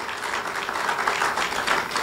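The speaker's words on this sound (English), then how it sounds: "Could we give a round of applause to our local organizing committee" Steady audience applause fills a formal ceremony hall, a dense, continuous wash of many hands clapping at moderate loudness with no voices over it.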